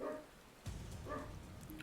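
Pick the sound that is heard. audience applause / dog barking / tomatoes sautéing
dog barking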